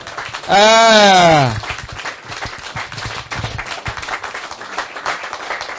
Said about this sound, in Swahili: Jameni, sijasikia makofi.